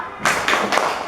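Classroom students perform a short rhythmic clap, three crisp claps in even succession over about a second.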